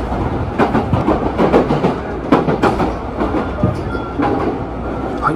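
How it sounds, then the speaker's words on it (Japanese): A JR Tōgane Line train rolls into a Japanese station, with rhythmic clickety-clack of wheels over rail joints and a steady rumble, loud and close throughout. "東金線がやってきました。"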